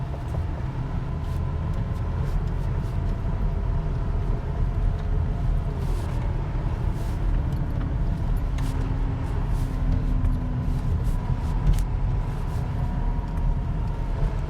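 Steady road drone from a car climbing uphill with a loaded RockyMounts MonoRail rack carrying three bikes, a continuous low engine and tyre hum with faint occasional clicks and rattles.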